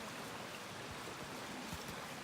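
A high creek flows steadily at Brown Creek Crossing on the Ouachita National Recreation Trail, making a continuous, close broadband rush of water with no voices.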